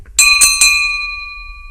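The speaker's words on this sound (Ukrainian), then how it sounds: "на уроки кличуть простим механічним дзвоником, який так само весело звучить, як і 100 років тому" A simple mechanical school bell rings three quick, bright strikes, loud and close, with a clear metallic ring that hangs on and fades slowly after the last hit.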